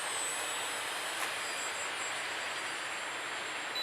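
ElevenHobby P-51D Mustang RC model plane flying slowly with flaps down, a steady, fairly faint engine whine and rush of air heard at a distance with no talk.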